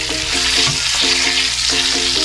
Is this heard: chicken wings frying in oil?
yes